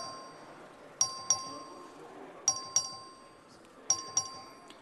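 A record vote bell rings in the Texas House chamber, sounding as three pairs of clear, quick chimes spaced evenly over a quiet room murmur.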